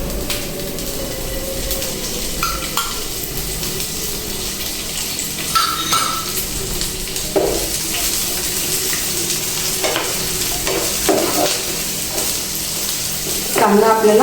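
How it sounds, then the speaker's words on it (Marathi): Onion frying in oil in a pan for a spicy traditional village drumstick dish, a steady close sizzle with occasional stirring scrapes and clinks throughout. "तर आता आपल्याला इथं कांदा भाजून घ्यायचा आहे।"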